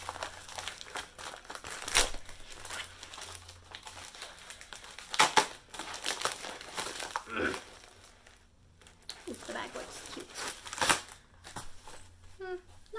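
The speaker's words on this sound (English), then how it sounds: "this is like bubblegum tacky glue stuff to close these." Ipsy beauty bag being opened, its packaging sealed with tacky bubblegum-like glue, giving intermittent crinkling and crunching of plastic with sharp bursts, heard close up alongside someone talking.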